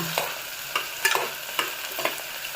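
Tomato, beans and onion fry in a pan for kadale soppu pulao, with a soft sizzle under regular stirring scrapes that come roughly every half second. Close and moderately loud, with no voices.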